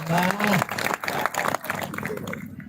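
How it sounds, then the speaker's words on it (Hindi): At a Hindi comic poetry gathering, a voice trails off briefly before audience applause rises in a patter of many hands, moderately loud and continuing to the end. "इस बात पर एक बार जोरदार तालियां बजनी चाहिए।"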